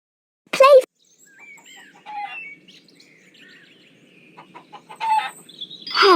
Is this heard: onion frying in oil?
no